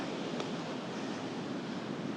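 Ocean waves crash and wash steadily near a parked camper van at a seaside parking spot in Spain, a loud, continuous roar of surf with wind, and no voices.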